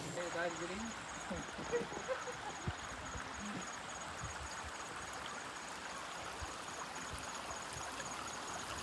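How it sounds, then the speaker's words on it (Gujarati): A small mountain stream near Igatpuri trickles and babbles softly and steadily in the background, with faint bumps and rustles on top and no clear gaps. "પાણીનું ઝરણું આવેલું જાય છે નાનું અમથું."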